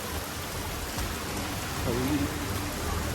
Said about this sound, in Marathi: पाऊस मजबूत आहे इथे.